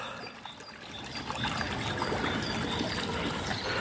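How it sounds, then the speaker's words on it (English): A gentle trickle of water spills from a small mini waterfall along an outdoor woodland walk, a steady broadband wash that swells slightly midway and holds constant, heard fairly close with no voices. "Lovely trickle of a mini waterfall."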